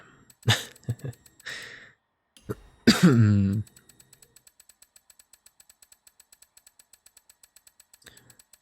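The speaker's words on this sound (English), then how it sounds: "Hopefully I won't be coughing too much more." A man coughs and clears his throat a few times close to the microphone while playing Forza Horizon 5, followed by a steady quiet mechanical ticking.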